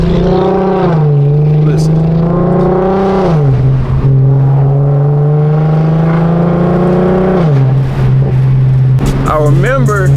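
An Infiniti Q50's exhaust idles with a loud, close rumble that rises and falls through several revs, while someone talks over the engine.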